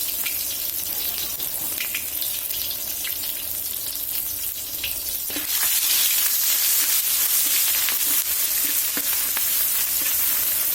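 Larb chili paste with makhwaen pepper stir-fries in a pan over medium heat for pork larb, a dense continuous sizzle that grows louder partway through, with faint stirring scrapes underneath.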